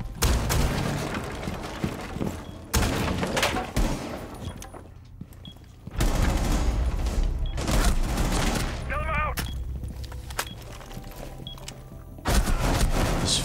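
Shotgun blasts from an LS shotgun in a competitive ranked first-person shooter match come as loud, sharp bursts spread across the stretch amid busy game effects, with some voice present.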